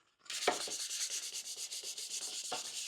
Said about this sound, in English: I'm just going to go over it now with some 320 sandpaper to lightly just scuff the surface